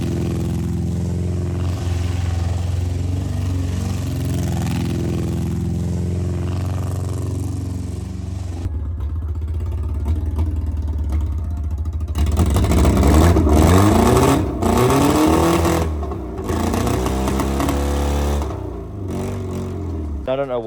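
Car engine running rough on three cylinders, a steady uneven low idle with a ticking motor, then louder revving in the second half, close and prominent.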